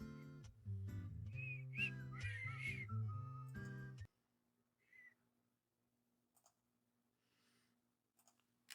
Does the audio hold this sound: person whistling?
yes